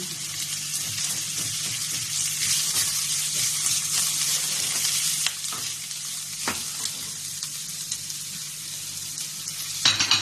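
Squid adobo frying in a pan, a steady dense sizzle with occasional stirring clicks and scrapes, close and fairly loud throughout with no talking.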